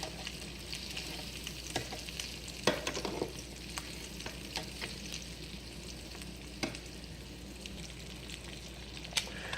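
Leftover Thanksgiving macaroni and ham patties sizzle and fry steadily in a pan, a continuous crackling hiss with occasional sharper pops, close and alone without talk.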